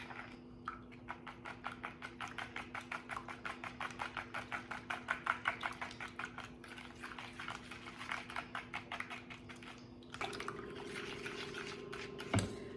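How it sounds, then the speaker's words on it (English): Macaroni salad dressing being whisked in a bowl, a fast steady rhythm of soft clicking and sloshing strokes, close and fairly quiet, stopping near the end as a different faint sound takes over. "Then we're going to go ahead and just whisk this all"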